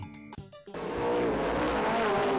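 A remote control car racing: after a short quiet start, a loud, steady high motor whine kicks in and holds, rising slightly in pitch with a rough, buzzy edge.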